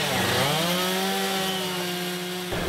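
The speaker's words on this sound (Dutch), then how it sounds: "Die doet de hele dag anders niks dan beelden maken met een kettingzaag." A chainsaw cuts and carves wood for a chainsaw sculptor at a timber yard. Its loud, steady engine whine holds an even pitch for about two and a half seconds and then cuts off sharply near the end.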